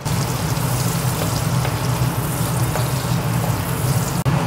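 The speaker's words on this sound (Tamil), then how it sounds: "பாருங்கள் வெங்காயம் நல்லா வதக்கிட்டோம்." Onions sauté in hot oil with cumin seeds, giving a dense, steady sizzle and spatter, close and loud from start to finish, with a brief dip near the end.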